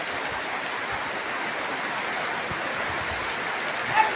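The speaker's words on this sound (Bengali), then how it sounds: "দেখুন কি বৃষ্টি শুরু হয়েছে ঝড়ের পর।" Steady downpour after a storm at a rural home in Bangladesh, a dense, even hiss of rain on surfaces close by, continuous throughout with no voices.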